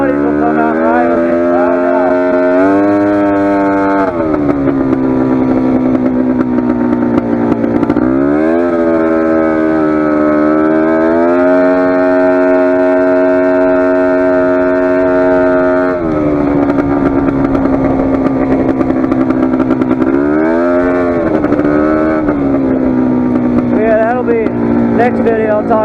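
Polaris 400 four-wheeler ATV engine being ridden, loud and close, its buzzing note rising and falling repeatedly as the throttle changes over a long stretch.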